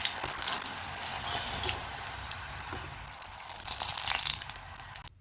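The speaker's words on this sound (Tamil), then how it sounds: "கத்திரிக்காய் இது மாதிரி நல்லா கம்ப்ளீட்டாக எண்ணெயிலே பொரிஞ்சு வெந்துருச்சு" Brinjal fries in hot oil with a dense, close crackling sizzle, loud and steady throughout, with bright popping bursts near the end.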